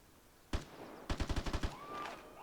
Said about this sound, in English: And then there are gunshots.